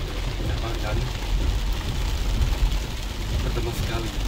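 Steady rain drums on a car, heard from inside the cabin as a continuous wash over a low rumble that lasts throughout, with no clear gaps.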